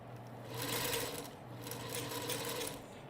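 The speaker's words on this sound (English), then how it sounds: "I'm going to sew just 1/4 of an inch" A sewing machine stitches a Dresden quilt block with a steady, close whirring buzz that runs continuously for a few seconds, with no voices over it.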